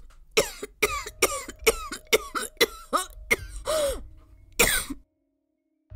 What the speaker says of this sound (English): she broke into a fit of hacking coughs